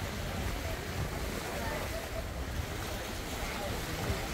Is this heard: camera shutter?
no